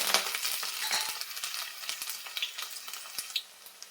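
Garlic frying in a pan after mustard seeds, a steady close crackling sizzle with sharp little pops and spatters scattered throughout, no voices.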